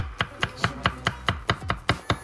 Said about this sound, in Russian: И нарезаем чеснок.